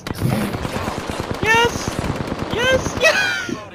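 Automatic gunfire in the Apex Legends video game: rapid bursts of sharp shots in quick rhythmic strings, close and loud, with players talking over the shooting.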